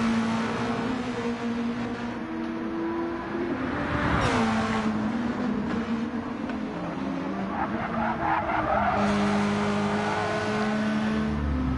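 Race cars lapping a circuit in Gran Turismo Sport, engines droning near and steady with tires squealing and skidding through corners, the engine note rising and falling throughout without pause.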